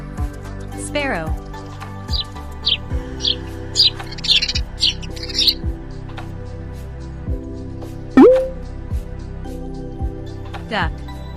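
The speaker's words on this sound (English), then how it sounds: "Sparrow." Short, high sparrow chirps repeat in scattered bursts over a soft musical background, with one louder whistled note partway through.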